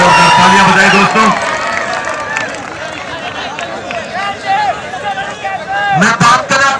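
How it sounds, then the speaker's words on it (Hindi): A crowd cheers and applauds at a village kabaddi match in Chidi, Haryana, a loud, dense mix of clapping, shouts and voices throughout. "तालियां बजाएं दोस्तों।"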